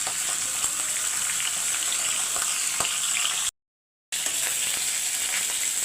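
Fish heads frying in hot oil, a constant bright sizzle with small pops, close and steady, briefly cut to silence midway before resuming.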